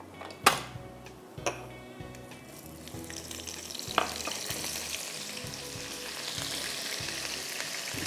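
Curry leaves hit hot oil that already holds whole cumin seeds, producing a steady close frying sizzle that swells after a few sharp clinks of a pan and spoon at the start, with no talking.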